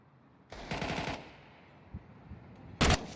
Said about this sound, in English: Does hear the gunshots.